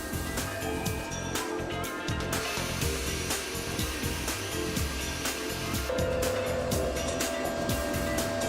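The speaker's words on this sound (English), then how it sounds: "the pull stud bolts on the underside of the pallet and the seating surface are air cleaned" A continuous hiss of compressed air blowing chips off the pull stud bolts and seating surface beneath a work-holding pallet on a Makino a61 machining center, steady and close throughout with faint machine hum underneath.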